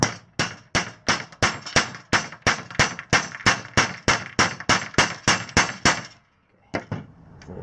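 A bolt is pounded with a hammer into a Harbor Freight trailer deck during a rebuild: about eighteen loud, sharp metallic strikes in a steady fast rhythm, a brief pause, then a couple of lighter taps.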